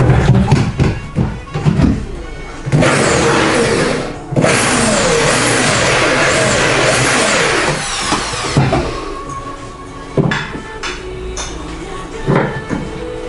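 A power drill bores a hole during a DIY balcony cabinet build, its motor whining in loud bursts that start, stop and change pitch, with clattering handling knocks between runs.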